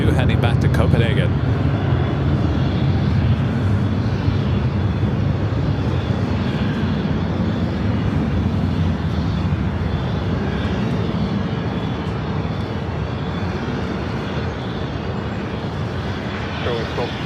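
Airliner engines roar steadily through the whole stretch at Los Angeles LAX airport at night, a loud, continuous low rumble with little change in level, with faint talk in the background.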